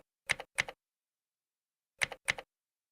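A search typed on a computer keyboard: two quick pairs of soft key clicks, close and quiet, separated by about a second of silence.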